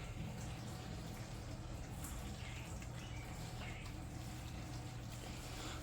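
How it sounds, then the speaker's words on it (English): Engine oil draining from the drain valve of a Hustler Raptor 42-inch riding mower onto a garage floor, a steady close trickling and splashing stream that runs continuously at an even level. "She's draining out pretty good. Made a heck of a mess on the garage floor."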